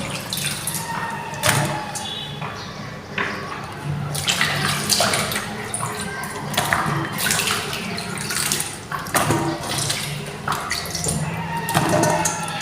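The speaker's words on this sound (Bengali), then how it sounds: "আমি সবজিগুলো ভালো করে ধুয়ে নিতেছি।" Winter vegetables washed under running water: a continuous close splashing rush with clattering and rustling as the produce is handled, steady throughout with no talk.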